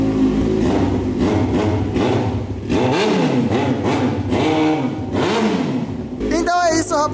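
A Yamaha XJ6 motorcycle engine revs through its exhaust, a loud rising and falling roar with repeated throttle blips close by, while a voice talks over it.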